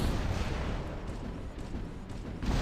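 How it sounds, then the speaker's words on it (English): Orbital strike explosions in the robot combat game War Robots, a dense continuous barrage of booming blasts and rumble with sharper bursts throughout, loud and without talk. "Right, we have an orbital strike."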